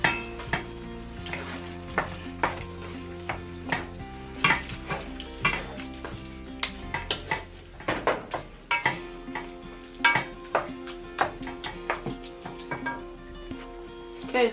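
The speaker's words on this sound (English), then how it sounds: "we're gonna mix that to incorporate it into our sauce." A spoon stirs canned tomatoes into a sizzling spaghetti meat sauce, with steady frying hiss and repeated clinks and scrapes against the pot, close and continuous with no talking.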